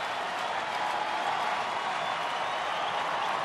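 Baseball stadium crowd at a night game roaring and applauding steadily, a dense, sustained wash of cheering and clapping that stays loud throughout.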